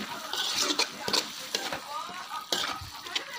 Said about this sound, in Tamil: ஸோ இப்போ ஃப்ரை பண்ணிக்கலாம்